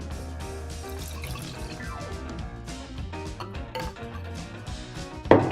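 Tonic water poured over ice and Cointreau in a glass, a close, steady fizzing trickle with soft drips that ends in a sharp knock near the end.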